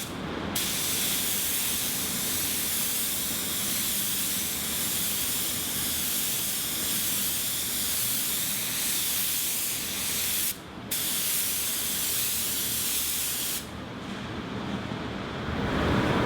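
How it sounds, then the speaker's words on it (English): Continuous loud hiss of a paint spray gun applying a blending base coat over a repair area, with two brief pauses in the spraying. "my plan is to spray to a wider area first with a blending coat"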